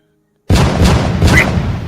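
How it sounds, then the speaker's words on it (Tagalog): After a moment of silence, three loud gunshots crack in quick succession in an aswang horror audio drama, close and booming with a rumbling tail, and no voices. "Tatlong sunod-sunod na putok ang tumama sa katawan ng aswang."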